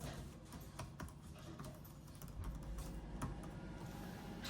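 Keys on an Asus VivoBook S16 OLED laptop keyboard click as they are pressed hard, a quiet, close run of rapid irregular taps with no voices.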